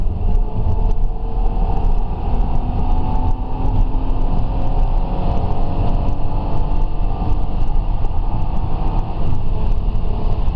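A Hyundai Tucson 2.7 V6 running on petrol engine roars loudly and steadily as it accelerates, a continuous close rumble with no breaks throughout.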